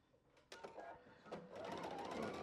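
A sewing machine stitches quilt four-patch squares in short bursts, first a few brief starts and then a steadier run of rapid stitching, close by and fairly quiet.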